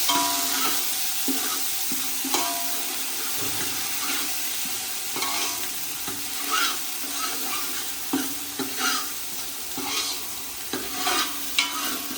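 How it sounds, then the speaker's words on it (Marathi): Mutton roasts in ghee in a pan, a continuous close sizzle broken by intermittent scraping and stirring of a spoon, with no talk. "मस्त तुपात असं भाजून घ्यायचं."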